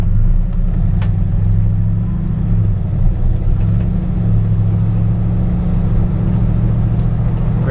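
A 1965 Ford F100 truck engine pulling away, a steady low rumble that holds even and close for the whole stretch, with no talk over it.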